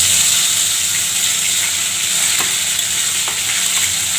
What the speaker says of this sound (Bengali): আদা বাটা দিয়ে দিচ্ছি